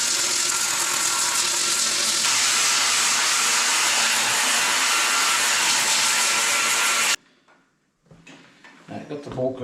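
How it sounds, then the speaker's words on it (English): A power grinder strips a sticker coating off a metal part on a woodchipper, a loud, steady broadband grinding roar lasting about seven seconds before cutting off abruptly, leaving quieter clattering and faint handling sounds. "It's got to come off anyway, so I might as well just grind it."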